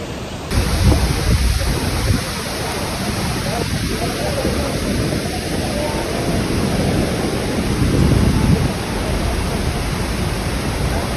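Niagara Falls roars from up close in a dense, loud and unbroken rush of crashing water, with deep rumbling surges throughout.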